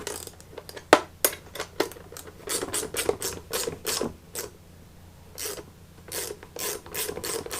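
A 10mm wrench clicks and ratchets in short uneven bursts while tightening a bolt on a custom fender of a Honda FL250 Odyssey, close up with scraping metal rubs between strokes.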